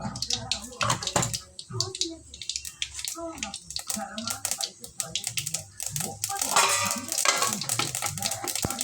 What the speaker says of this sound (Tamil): எண்ணெய் காஞ்ச உடனே கடுகு பருப்பு போட்டுக்கிறேன்